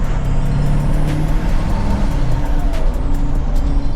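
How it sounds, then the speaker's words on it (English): Car engine with a turbocharger running steadily nearby, a continuous loud low rumble with a faint high whine over it and no voices. "we'll do some turbo noises"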